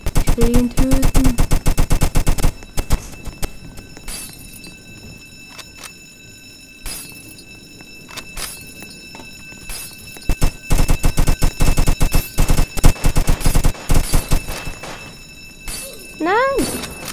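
Rapid bursts of gunfire in the Roblox game Jailbreak crackle loudly, with pauses between volleys and short electronic tones; a voice speaks briefly near the start and end.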